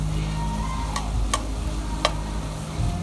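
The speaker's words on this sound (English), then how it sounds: "Sauteing it with a little butter right now." Vegetables sauté in butter for New Orleans style smothered turkey wings, a steady low sizzle broken by three sharp clicks of a utensil against the pan.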